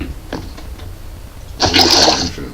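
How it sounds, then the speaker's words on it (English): Water gets poured out in Minecraft SkyFactory 4, a short bright splashing gush that starts partway through and keeps flowing to the end after a few small clicks. "Infinite water source here."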